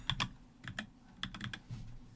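Clicking keystrokes on a computer keyboard come in quick irregular bursts, close and fairly quiet, with short gaps between clusters of presses and no talking.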